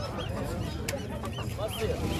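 A duck gives a few brief honking quacks at a bird market, fairly faint under constant crowd noise and nearby chatter.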